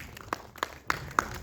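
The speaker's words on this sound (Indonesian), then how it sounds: "Tepuk tangan untuk Tara Basro" An audience at a film premiere for Pengabdi Setan 2 Communion in an IMAX theatre claps for the cast, with a handful of distinct, sharp claps spaced about a third of a second apart.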